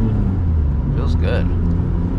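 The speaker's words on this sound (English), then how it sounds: "Love that induction noise. Probably louder than the exhaust." A BMW E36 M3 with a swapped-in OEM S54 engine drones steadily with low induction noise while driving, someone speaking briefly over the rumble.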